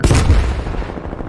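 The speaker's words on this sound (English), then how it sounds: "Are you shooting with a pistol, bro?" Pistol gunshots in a shooting video game, a loud close blast followed by a rapid rattle of further shots decaying over about a second.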